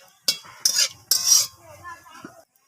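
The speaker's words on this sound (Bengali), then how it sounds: "তো চিনিটা দেওয়ার পর আমি তেলের সাথে চিনিটাকে এইভাবে মিশিয়ে নিলাম।" A utensil stirs sugar into oil in a cooking pan, making several scraping, clinking strokes in quick bursts, close up, then fading to a quieter scrape.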